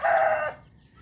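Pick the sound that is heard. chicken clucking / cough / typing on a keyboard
chicken clucking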